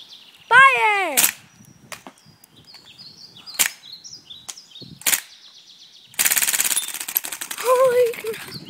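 A Cybergun UZI BB gun fires a rapid full-auto burst with a dense rattling clatter, surrounded by sharp single clicks, short snaps and an excited voice shouting.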